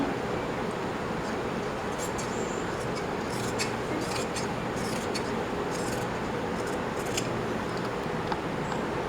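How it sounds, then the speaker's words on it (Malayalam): Scissors snip through cotton fabric while a baby frock is cut out, a series of short, crisp cuts close by over a steady soft background. "അപ്പോൾ അതൊന്ന് കട്ട് ചെയ്ത് കൊടുക്കാം."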